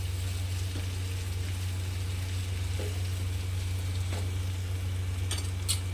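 Capsicum and crushed roasted peanuts stir-fried in a pan, a quiet steady sizzle with occasional spatula scrapes and clinks against the pan, no voices.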